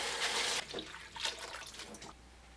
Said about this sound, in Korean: 말린 토란대를 두세 번 씻어주세요.